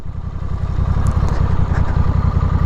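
A motorcycle engine runs close and loud at a steady, throbbing idle-like rumble as the rider pulls the clutch to slow down, with no talk.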